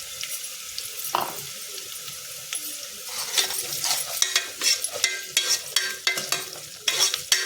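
Moong dal fries and is stirred in a pan with onion and chilli, a steady close sizzle broken by repeated scraping strokes that come in a quickening rhythm, with no talking.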